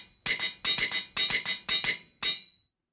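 Minecraft anvil in use, five metallic clangs in quick succession then a sixth after a short pause, each bright, ringing and close with a fast decay.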